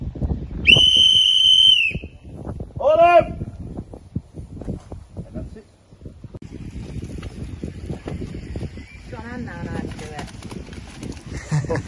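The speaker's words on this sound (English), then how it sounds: "The whistle's about to go." A single long, loud whistle blast sounds at the end of a qualifier round of a fishing match at a fishery lake, followed by outdoor wind noise, splashy background sounds and people talking.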